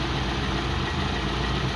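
A 1986 Toyota Corolla GL with a 1300 carburettor engine idling, a steady, even low rumble heard close up and alone, with no voices.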